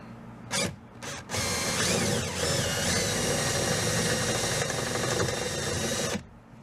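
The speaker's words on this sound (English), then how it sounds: "So we got to drill down in this bottom corner." A drill bores out a rivet in the bottom corner of an OBS GMC/Chevy truck door during a door handle replacement, grinding steadily and loudly for about five seconds after a couple of short starts.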